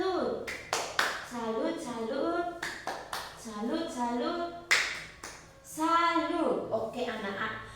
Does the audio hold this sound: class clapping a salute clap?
yes